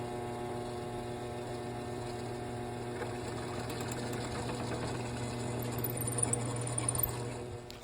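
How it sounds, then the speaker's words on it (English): A drill whirs with a steady motor hum as it bores holes through wood for a Damascus knife handle, the pitch and grinding roughening toward the end. "Now I'm putting the holes in the wood that I'm going to use for the handle."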